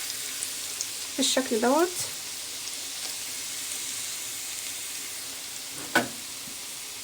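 Garlic frying in oil gives a steady, close sizzling hiss throughout, with a brief spoken phrase and a short clatter partway through.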